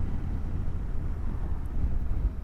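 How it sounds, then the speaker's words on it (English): Continuous low rumbling wind buffeting a microphone during a ride on a 2025 Suzuki V-Strom 800RE motorcycle in stormy, very windy weather, steady and loud throughout with no voices. "It is very windy."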